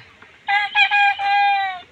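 A rooster at a Sonali chicken poultry farm gives one loud, close crow in several segments over a faint background.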